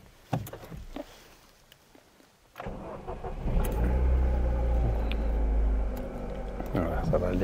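A 1997 Ford car with a weak battery cranks and fires up, the engine catching with a sudden jump into a loud, steady close-up idle after a few quiet clicks and rustles.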